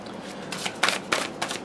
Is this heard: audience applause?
no